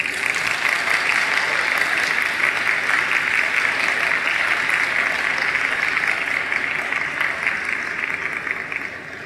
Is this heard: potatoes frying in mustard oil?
no